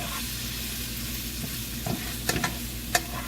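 Cabbage with apple cider vinegar stirred in a hot pan, a steady close sizzle broken by a few sharp scraping strokes of the spoon near the end.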